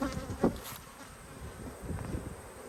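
Honeybees drone in a soft, continuous buzz around an open beehive during a hive check, the swarm sound low and close, without speech.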